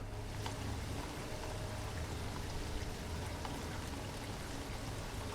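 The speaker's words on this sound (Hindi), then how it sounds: "बारिश की बूंदें अभी पत्तों पर गिर रही थी।" Steady rain patters on leaves in a dark, muddy jungle, a dense continuous wash of drops with faint low rumble beneath, evenly loud throughout with no voices.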